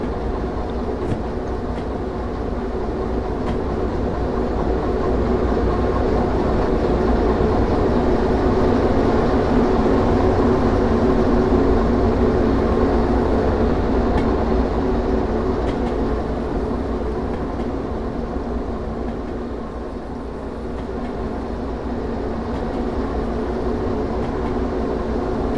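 A locomotive hauling wagons in the railway simulator game Derail Valley rumbles steadily in a continuous, loud low drone with a faint rhythmic clatter of wheels on track, shunting at an iron ore mine.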